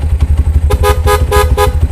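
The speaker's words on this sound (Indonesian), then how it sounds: "Klakson ini dari GL100." A Honda CB100 motorcycle, fitted with a GL100 horn, gives four short, loud beeps in quick succession over its steadily idling engine nearby.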